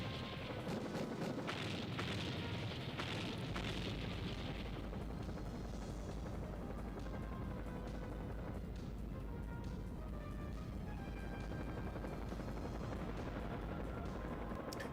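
PlayStation 2 game War of the Monsters, where a helicopter's low, steady rumble runs throughout while heavy booms and explosion bursts hit repeatedly, crowded together early and then thinning out into scattered blasts.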